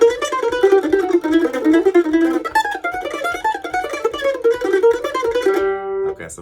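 Mandolin plays a slidey lick through a 1-4-5 progression, sliding single-note phrases with tremolo-like picking, close and solo, finishing on a ringing held note.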